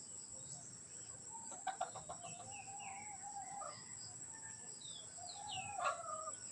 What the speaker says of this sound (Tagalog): Itong inahin na ito mga kanter si Negra.